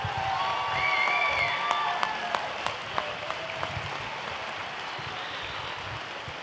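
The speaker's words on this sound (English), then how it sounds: "Let's give them an enormous round of applause." An audience applauds students standing at a fine arts festival held at Siena Heights University, steady indoor clapping with a few sharper individual claps and faint whistles near the start.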